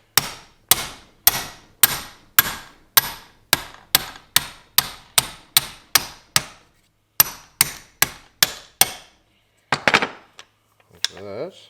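Steady, evenly spaced metal hammer blows pound on a socket to drive a piston out of a Case David Brown 1394 engine, loud and close, about twenty strikes, then a few scrapes and clatters.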